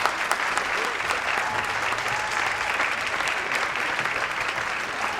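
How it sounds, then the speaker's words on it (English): Loud, dense applause from a large crowd, steady and sustained throughout without pause. "Then there is very loud applause."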